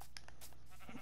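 A sheep in the video game Minecraft gives a short bleat over a steady low background hum, brief and fairly quiet.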